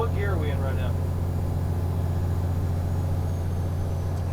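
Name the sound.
truck engine running in gear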